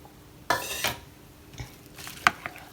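Boiled vermicelli stirred together with chopped banana and apple in a bowl, a few soft scraping and clinking strokes of a utensil, close and quiet with gaps between, no talk.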